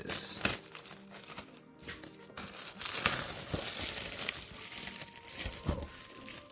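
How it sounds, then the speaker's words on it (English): Plastic shrink wrap being torn and crinkled off a Pokémon Sword and Shield Elite Trainer box, steady close crackling with a few sharper rips scattered through, no talking. "Just rip into this."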